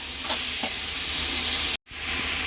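Tomatoes and masala paste frying in a pan for pav bhaji, a dense steady sizzle with a few soft stirring scrapes, broken by a brief moment of silence before the frying resumes.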